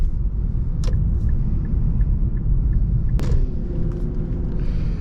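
A 2021 Infiniti Q60 3.0t's 3-liter V6 heard from inside the cabin, a steady low engine drone and road rumble with a few faint clicks, no talk.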